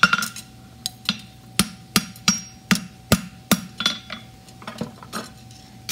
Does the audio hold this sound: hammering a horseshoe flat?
yes